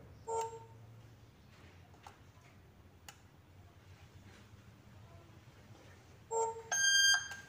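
A Yoosee Wi-Fi light bulb camera beeps while being reset, giving short electronic tones near the start and again near the end, where they run into a rapid multi-tone chirp, over faint background noise.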